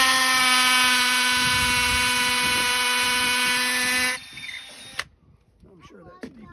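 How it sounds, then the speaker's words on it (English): A power drill drives Tapcon screws into concrete while a gazebo is being built outdoors. Its steady high motor whine runs loud and close for about four seconds, then cuts out, followed by a sharp knock and quiet handling noises. "we're going to run the Tapcon screws down in there"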